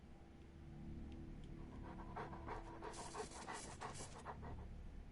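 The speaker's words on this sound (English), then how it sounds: "I hear a dog." In the video game Wasteland 2, a dog pants quickly and rhythmically in a quiet scene, soft breathy bursts over low ambient background.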